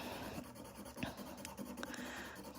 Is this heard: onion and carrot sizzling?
no